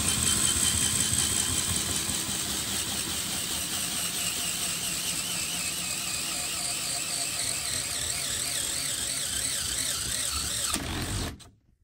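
A Hyper Tough installation driver runs steadily at low speed, a loud, continuous motor whine with a wavering high squeal that holds for about eleven seconds, then cuts off abruptly.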